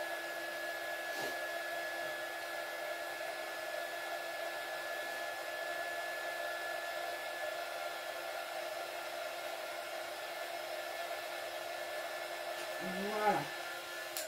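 A heat tool blows steadily over wet paint on an art journal page, a continuous close whirring hum that runs unbroken throughout, with a couple of faint knocks near the end.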